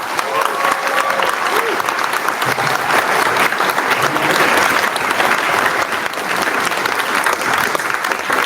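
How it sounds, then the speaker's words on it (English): An audience bursts into sustained applause, dense and loud clapping that continues without a break, with some cheering mixed in. "I know we just applauded"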